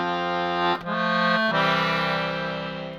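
An accordion plays Amazing Grace with added harmony notes, sustained reedy chords with a brief break and a re-articulated note before the melody continues steadily and loudly, with no talk.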